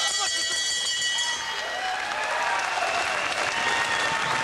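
A boxing crowd at a professional featherweight bout breaks into loud, sustained applause and cheering that fills the hall, with voices mixed into the roar.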